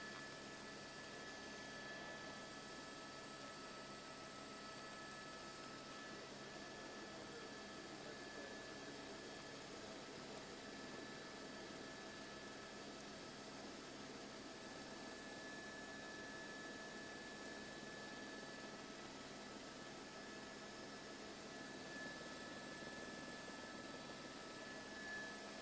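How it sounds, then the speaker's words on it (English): An LA County Sheriff's helicopter flies low over the LA River during a police chase, a steady, continuous rotor and turbine drone that holds evenly throughout without any talking. "you're going to be able to see an LA County Sheriff's helicopter right over the LA River, tracking his move as well"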